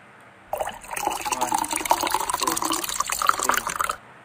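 Water poured and gulped fast during a seven-second drinking challenge, a steady continuous splashing liquid sound lasting about three and a half seconds, fairly close and without talk.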